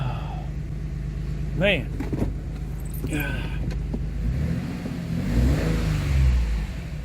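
A 2007 Dodge Nitro engine idling and revving after a fuel pump change, a steady mid-pitched running note with throttle blips rising and falling, close by, while someone talks over it.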